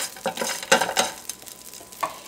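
Crushed ginger and green chili are sautéed in a pan for oats upma, with a few scraping stirs and soft bursts of sizzling over a quiet background.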